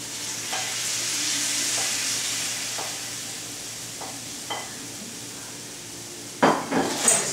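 Beef and vegetables stir-fried together in a pan, with a steady loud sizzle, spatula scrapes and clinks of metal on the pan, ending in a sharper burst of stirring.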